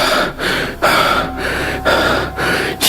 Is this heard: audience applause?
no